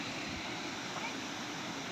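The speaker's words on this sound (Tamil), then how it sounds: "மேலேருந்து ஃபால்ஸ் நல்லா தண்ணி வருதா, சூப்பர்." A steady, faint rush of falling water from a waterfall at Thirumoorthy hills fills the background, broadband and continuous, with no distinct splashes standing out.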